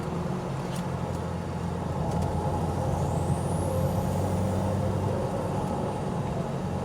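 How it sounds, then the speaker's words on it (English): A turbocharged 1986 Ford Mustang SVO driving under load, engine droning steadily while a thin turbo whistle rises and sweeps upward through the middle of the run, loud and close from inside the car. "you can hear the turbo spool"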